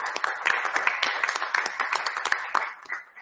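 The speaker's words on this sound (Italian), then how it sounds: "vedo qualcuno che vorrebbe applaudire, merita un applauso" Audience applause at a press conference for the signing of an agreement between UNPLI and the Bolzano tourism board: steady, dense clapping from a room of people, lasting throughout and easing slightly at the end.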